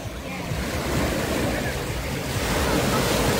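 Ocean surf at South Beach washes in with a steady, broad roar, and wind buffets the microphone throughout.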